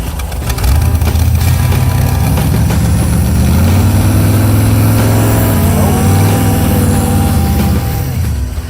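A Corvette-engined go-kart idles high and loud at around 2,000 RPM, a steady rough drone that holds and shifts slightly in pitch without settling, with no talk over it.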